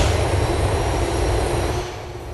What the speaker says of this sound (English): a train goes flying by where my phone is